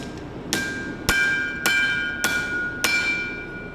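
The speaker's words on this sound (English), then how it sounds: "use this edge of the hammer and dig into it" Five evenly spaced hammer blows strike hot steel on an anvil while a knife is forged with the hammer's edge. Each close, loud clang rings out briefly with a bright metallic tone.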